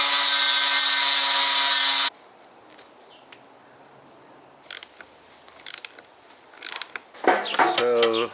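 A nut spun with a tool on a radiator bracket during a Koyorad radiator install in a Mazda FC RX7: a loud whirring power tool at first, then quiet, sparse metallic clicks and rattles, ending in another brief whine.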